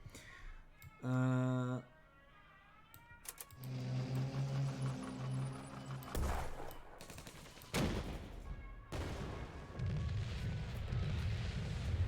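Layered game explosion effects from a KARDS match, a burst of booming blasts with crackling impacts and rumbling low end, followed by further dense crashing sound effects, with a voice talking briefly over them.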